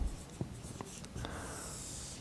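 A marker scratches faintly across a board in a few short strokes while a circuit problem is worked out, quiet and close, with no talking.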